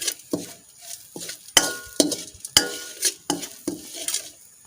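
Ground masala stirred in hot oil in a pan for Mangalorean masala avalakki, heard as repeated scraping and clinking strokes of a utensil against the pan over a light sizzle, close and rhythmic.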